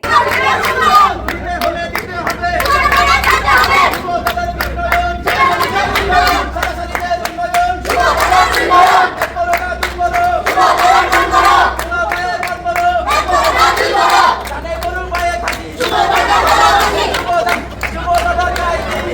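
Wedding procession guests arriving together with loud rhythmic group chanting of slogans from behind, a dense crowd of many voices rising and falling in bursts over steady background babble.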